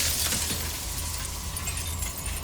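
A mirror shatters into jagged glass shards in the video game Slay the Princess, a loud, dense crash of breaking glass that rings and sprays on steadily with a low hum beneath.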